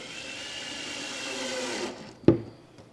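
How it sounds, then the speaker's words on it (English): A power drill whirs steadily for about two seconds starting screws into wood, then stops, followed by a sharp knock. "So I'm just going to get them started with the drill."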